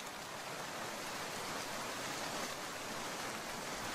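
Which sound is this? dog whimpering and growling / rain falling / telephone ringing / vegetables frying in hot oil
rain falling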